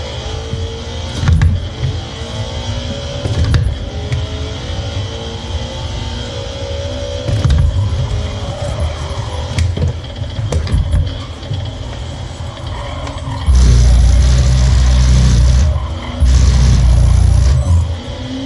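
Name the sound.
force feedback vibrations of Thrustmaster T598 racing wheel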